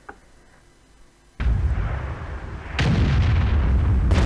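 Tank cannons firing in World of Tanks, a heavy sudden boom at about a second and a half followed by sustained rumbling and a second blast that keeps the low roar going to the end.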